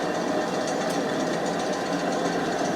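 An MGB engine fitted with a new crank pulley runs at a steady idle, a continuous, even mechanical hum with light ticking throughout, close and constant with no talk.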